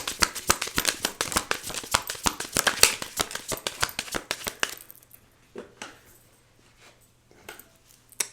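Tarot cards are riffled and shuffled in rapid crisp bursts up close, then a few softer taps and slides follow as the shuffling winds down.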